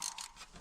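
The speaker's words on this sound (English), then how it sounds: "I have a little wrench." A small wrench ratchets on a hydraulic pump for an off-road wrecker, giving a few quick, faint clicking strokes close by.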